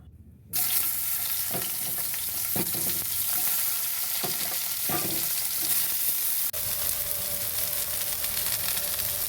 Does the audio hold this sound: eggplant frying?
yes